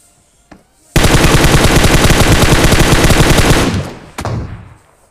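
Gunfire from the PUBG video game, heard as a loud, rapid automatic burst lasting nearly three seconds, followed by a short trailing echo and then a second brief burst.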